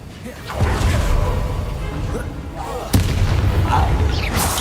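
In Hogwarts Legacy combat, booming spell blasts and whooshing impacts, including a Bombarda explosion, land over a busy magical battle. A sharp, loud blast hits midway through the clip.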